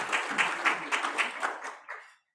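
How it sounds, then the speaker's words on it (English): A meeting audience claps in a burst of sharp, fairly close hand claps that fade out after about two seconds. "Clap your hands."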